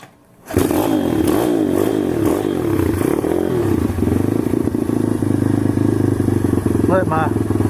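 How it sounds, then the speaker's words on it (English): An SSR TR160 motorcycle engine fires up and idles loud and close, a steady rough thumping with a few uneven revs early on, running continuously to the end. "Let my engine warm up a little bit."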